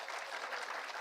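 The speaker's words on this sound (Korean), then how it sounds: "하나님께 영광의 박수." Church congregation applauding after the sermon, a brief, fairly faint patter of many hands clapping together.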